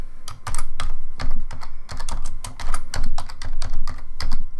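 Keys on a computer keyboard are struck in quick, uneven bursts of close, crisp clicks and clacks throughout, with no talk.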